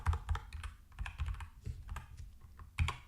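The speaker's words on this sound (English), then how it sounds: "I hope the keyboard is not too clacky. It's a mechanical keyboard." Rapid clacking keystrokes on a mechanical computer keyboard, close and fairly loud, in an irregular typing rhythm with a few heavier presses standing out.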